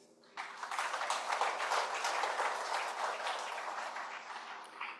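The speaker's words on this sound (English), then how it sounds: "let me simply ask for a general, robust applause for all," A conference hall audience at an ECOWAS event breaks into applause, a sudden start followed by sustained, even clapping from many hands at moderate distance.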